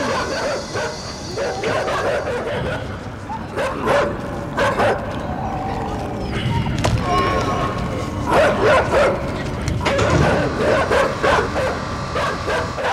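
Several dogs in the video game INSIDE bark and yip repeatedly in bursts throughout, fairly close, mixed with game noise and some talk.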